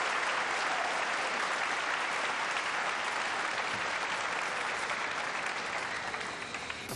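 A crowd applauds steadily for about seven seconds at the 2004 World Pool Championship match between Earl Strickland and Che-Wei Fu. The clapping is dense and loud, with no talking over it.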